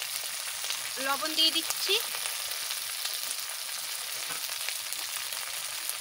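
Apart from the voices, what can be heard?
masala spices frying in a pan for Pangasius fish curry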